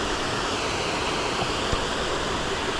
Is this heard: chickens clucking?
no